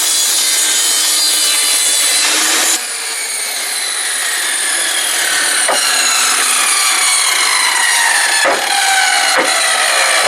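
A handsaw cuts through a wooden board for a sawhorse, with long raspy back-and-forth strokes that change pitch as the cut deepens, loud and close with no talking.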